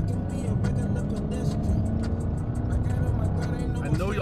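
Loud, rumbling Dodge Hellcat engine idling and revving up close, a dense low growl with rhythmic pulses running continuously, with speech audible over parts of it.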